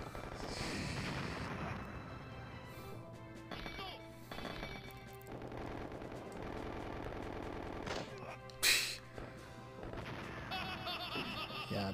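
Dense, continuous shooting from a bullet hell shooter game, Gamshara, with layered rapid shots and blasts running throughout over a busy game soundtrack, including one sharp louder burst near the end.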